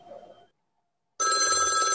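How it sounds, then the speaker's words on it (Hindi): A brief voice fades out, then after a pause a loud electronic telephone ring begins and sounds continuously to the end. "लगते उन्हीं का फोन आ गया"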